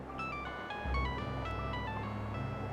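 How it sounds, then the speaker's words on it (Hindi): Phone ringtone playing a melodic electronic tune of bright tonal notes in a repeating pattern over a low sustained tone, clear and alone with no voices. "किसका फोन आ रहा है? उठाओ तो सही।"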